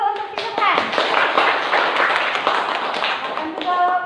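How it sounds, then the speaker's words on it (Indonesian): A classroom of students claps for a classmate, a close, busy patter of hands with voices of children and a teacher talking over it. "silakan tepuk tangan dulu untuk si Subhan"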